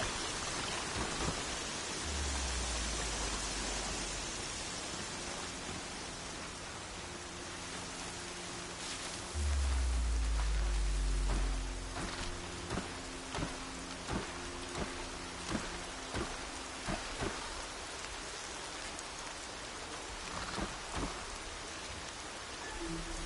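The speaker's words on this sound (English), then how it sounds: "Rain's too loud to hear much." Heavy rain pours steadily in the video game Horizon Zero Dawn, a dense hiss of drops with deep rolls of thunder rumbling through and scattered louder splashes on nearby surfaces.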